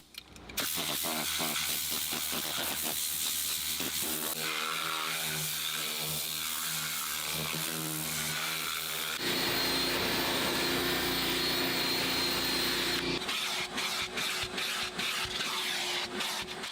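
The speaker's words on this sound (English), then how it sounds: "Anywhere where there's loose debris, we're gonna go ahead and vacuum that up." Vacuum cleaner sucking up loose debris inside a car during interior detailing, a loud continuous motor whine and rushing airflow that shifts pitch and texture as the nozzle moves across mats, door panels and console, with no talk.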